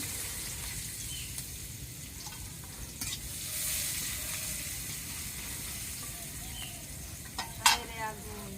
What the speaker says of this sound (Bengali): মাছ ভাজির জন্য আমি এই যে তেলের মাঝে পেঁয়াজ দিয়ে দিলাম